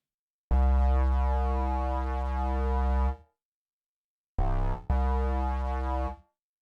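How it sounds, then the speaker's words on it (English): A harsh, buzzy synthesizer tone with distortion and compression and rich harmonics sounds alone, holding for about three seconds, then returning in two shorter bursts after a pause. "what I was doing there was adding some distortion and compression"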